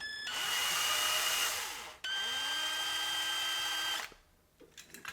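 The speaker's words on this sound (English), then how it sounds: "Let's see, this drill bit to get the job done." A power drill with a bit, used to rework a vintage Matchbox off-road van toy, whines at high speed in two long runs, winding down between them before stopping.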